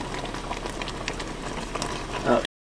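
Saucy pasta mixture bubbling and simmering in a camping pot outdoors, a steady close wet burble with a louder splash near the end, under talking voices.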